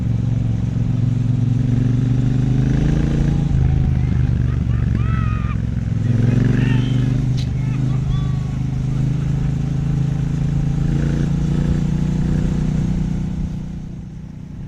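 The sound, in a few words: 2026 Triumph Speedmaster motorcycle engine while riding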